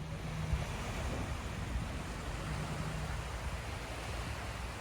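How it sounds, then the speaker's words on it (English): Surf rolls in on the shore at Souris on Prince Edward Island on a calm morning, a continuous broad rushing wash with gentle swells, low and steady, mixed with wind buffeting the microphone, and no voices. "It's a lovely morning to watch the water coming in."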